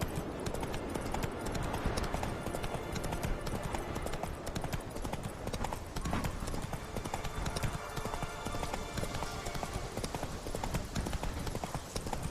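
Roach, the horse in The Witcher 3, gallops in a fast, steady clip-clop of hooves over ground, loud and continuous, with game ambience layered underneath.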